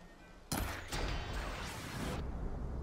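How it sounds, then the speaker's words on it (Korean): A frost arrow bursts a coolant canister in the Horizon Forbidden West video game, a sudden loud explosive blast followed by a sustained crackling, hissing rush that fades after about two seconds. "냉기 화살로 냉각수 캐니스트를 쏴서 폭발시킵니다"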